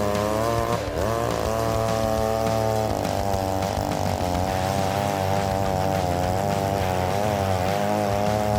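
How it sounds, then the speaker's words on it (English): A gasoline chainsaw runs steadily at high revs for the whole stretch, cutting through wood while firewood is processed, its loud, close engine whine wavering slightly as the blade bites. "The chainsaw roars to life, its sharp blade spinning at high speed, ready to tear through the wood."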